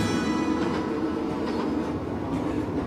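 Steady, loud rumble of a passenger train running on rails through British countryside, continuous throughout with faint rhythmic clickety-clack and no talking.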